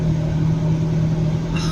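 Inside a McLaren 12C with 42,573 miles, its engine gives a steady low droning rumble with a constant deep hum, close and loud, brief and without revving.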